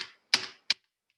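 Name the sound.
computer keyboard arrow keys being pressed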